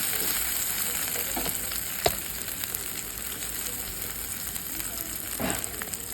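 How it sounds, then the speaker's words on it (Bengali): Onion fries with salt in a pan, a steady close hiss of sizzling oil with an occasional light tap or stir, no voices. "পেঁয়াজটা ভাজতে ভাজতেই আমরা ওর মধ্যে কিছুটা লবণ দিয়ে দেবো"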